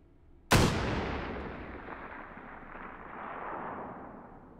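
A single sharp, loud gunshot cracks out in the VR game Hot Dogs, Horseshoes & Hand Grenades, then a long rumbling tail echoes and slowly fades across several seconds with no talking over it.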